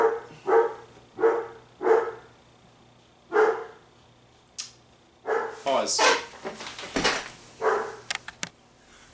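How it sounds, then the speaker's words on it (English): A pet dog barks in short bursts indoors, a run of about five loud woofs with gaps between, followed by a person talking nearby. "the dog was barking his head off"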